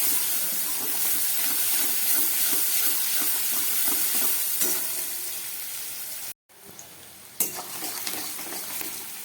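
Sliced onion sizzles and hisses in hot oil with cumin seeds while a spoon stirs it, leaving a dense frying hiss with rhythmic scraping taps, a brief pause, then renewed sizzling.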